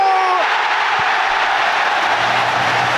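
A football crowd roars and screams as QPR attack against Derby County, a dense, loud, sustained wash of voices that swells and holds for the whole moment.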